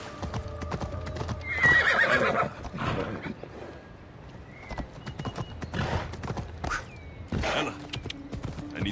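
Horse hooves clip-clop and a horse neighs in Assassin's Creed Odyssey, with the whinny rising loud early on, then scattered hoofbeats and game ambience.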